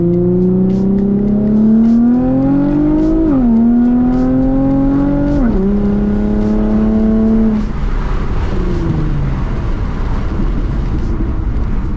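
A Nissan 350Z with a shift kit accelerates on a test drive, heard from inside the car as a loud engine drone rising in pitch through two upshifts before easing off under road noise.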